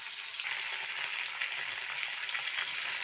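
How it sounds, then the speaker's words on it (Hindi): Local freshwater fish fries in hot oil with a steady, dense sizzle and crackle throughout, fairly close and even in level, with no talking. "फिर थोड़ा थोड़ा करके फ्राई करेंगे मच्छी को।"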